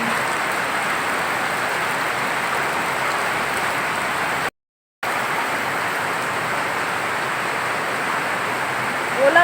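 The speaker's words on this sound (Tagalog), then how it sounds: "Ulan." Steady heavy rain hisses evenly throughout, broken by one brief gap of silence midway.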